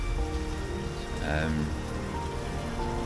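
Heavy rain falls in a steady, even hiss throughout on a hike from O Cadavo to Lugo on the Camino, with a voice briefly speaking over it partway through.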